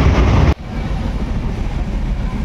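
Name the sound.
train running on tracks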